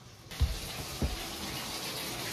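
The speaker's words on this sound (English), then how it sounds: "Then who has the bathroom tub on?" A bathroom tub tap runs, giving a steady gushing hiss of water with a couple of low thumps near the start, heard alone without voices.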